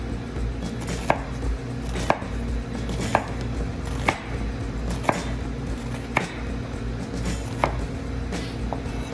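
Knife chopping an onion on a cutting board, slow steady strikes about once per second, each a sharp close tap over a low background hum, with no talking.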